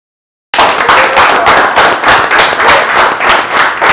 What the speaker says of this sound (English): Clap it up for him, clap it up